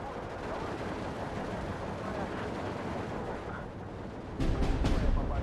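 Artillery fire in the World War II real-time strategy game Steel Division 2, with a low rumbling barrage of distant booms and a sharper, louder cluster of blasts near the end.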